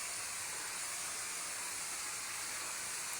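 A 275-degree vapor steamer works over an old, never-cleaned VCT floor, giving a steady, unbroken broadband hiss that stays at an even level throughout, with no talking.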